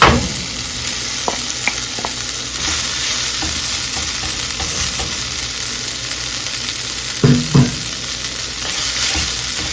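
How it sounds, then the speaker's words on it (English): Tofu tossed into a hot pan with garlic on high heat sizzles loudly and continuously up close, with repeated stirring scrapes and a couple of sharper clatters near the end, no talking. "And now we're going to add our tofu."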